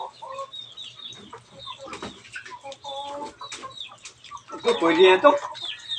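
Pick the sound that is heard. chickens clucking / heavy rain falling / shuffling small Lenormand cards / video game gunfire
chickens clucking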